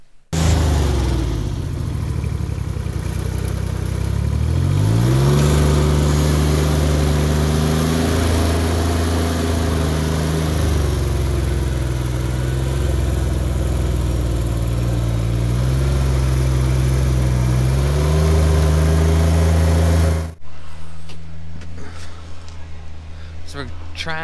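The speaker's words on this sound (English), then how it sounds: "So we're trying our best to get it dug out with the tractor" A tractor engine runs while digging out a stuck vehicle, a loud steady mid-pitched drone with shifting revs for about twenty seconds before dropping away, with voices talking over it.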